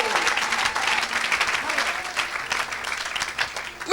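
A church congregation applauds in thanks to Jesus during a prophetic worship service, a steady, dense patter of many hands clapping close by that holds loud and unbroken throughout, with crowd murmur beneath.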